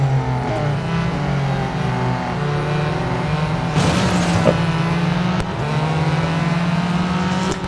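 Acura NSX GT3 race car in the game Real Racing 3, a loud continuous engine drone with rising and falling revs through gear changes, close and steady throughout.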